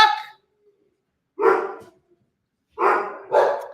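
Dogs bark alone in short separate bursts, one yap, then a second, then two quick barks close together, loud and near with silence between.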